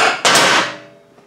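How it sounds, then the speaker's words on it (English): A sledgehammer strikes a metal part of a Frazer rototiller being taken apart. One loud, close blow is followed by a short fading ring. "using a sledgehammer and hitting on both sides."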